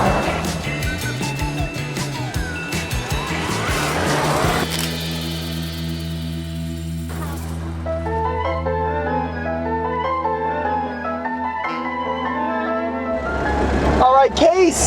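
Two roughly 100-year-old cars roll into a drag race from a running start, their engines droning low and steady with rattling mechanical noise, while voices talk over the top.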